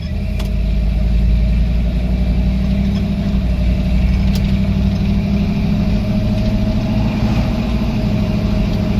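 An old truck engine running while driving, a steady, loud, close rumble with a rhythmic throb holding constant throughout, no speech over it.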